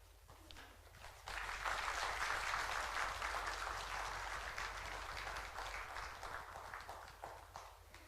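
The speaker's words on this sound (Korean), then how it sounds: "나오실 때 큰 박수로 환영해 주시기 바랍니다" An audience breaks into sustained applause, many hands clapping together loudly, then gradually thinning out toward the end.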